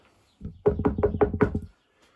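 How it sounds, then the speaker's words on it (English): A quick, even series of about five knocks on a wooden door, close and crisp, used as a story sound effect with nothing else around it. "The servant knocked a third time."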